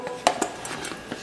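A plate and pan clink and clatter as a tapioca pancake is flipped in the kitchen, giving several quick, light metallic and ceramic knocks at close range without talk.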